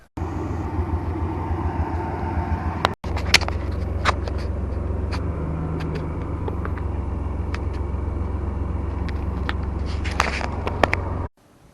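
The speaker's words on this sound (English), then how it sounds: "The S10 is going to come pull it over there." Chevy S10 pickup truck towing a large 6x12 cargo trailer, a steady low engine and tire rumble running throughout with a few faint clanks and knocks on top, no talking.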